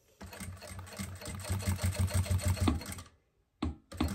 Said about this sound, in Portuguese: Vem costurando bem devagar.